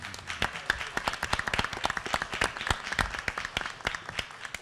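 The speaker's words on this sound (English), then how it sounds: "if you want to clap your hands and give them some encouragement, that would probably be a good thing right now." A small audience at a school board meeting claps hands, with a ragged, uneven run of individual claps of moderate loudness and no talking.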